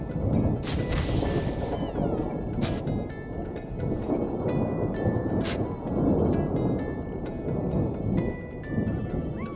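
Thunder from lightning in the VR game Journey of the Gods: heavy rumbling booms and sharp cracks over a steady rain-like wash, loud and continuous, with several distinct strikes.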